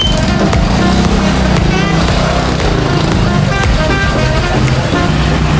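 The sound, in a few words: street traffic with car horns, Lapu-Lapu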